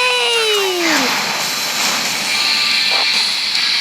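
A jet aircraft flies in the video game GTA San Andreas, a steady roaring engine wash with a falling whine near the start, loud and continuous throughout.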